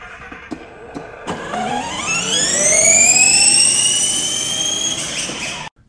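A toy Power Wheels car with dual 24-volt motors and an 18-volt battery whines up in pitch as it speeds up, a loud rising electric motor scream that holds high, then cuts off abruptly at the end; no talk.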